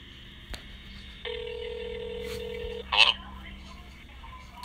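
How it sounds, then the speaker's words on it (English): A telephone call ringing through a handset: one long steady ring tone with a brief burst after it, quiet background and people talking nearby. "Okay, it's ringing."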